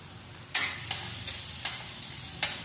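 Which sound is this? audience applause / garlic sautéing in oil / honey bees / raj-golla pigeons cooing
garlic sautéing in oil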